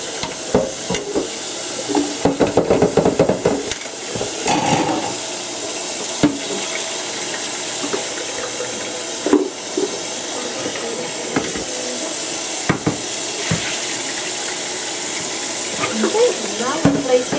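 Tap water running steadily into a pot for Vietnamese pho soup, a continuous hissing, splashing stream close by with occasional clanks, and a person talking over it.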